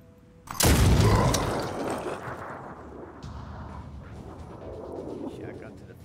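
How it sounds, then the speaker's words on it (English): A point-blank shotgun blast in the tactical game Phoenix Point: one loud, close boom with a sharp onset that rolls into a long, decaying rumble under a low game ambience. "Shotgun to the face at point blank range."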